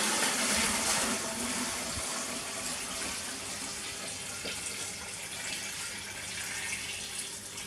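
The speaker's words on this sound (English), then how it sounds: "Then we go ahead and top it up with clean water." Clean water poured into a homemade fish food making device to top it up, a steady broad gushing and trickling fill running throughout, fairly close and alone, slightly louder at the start.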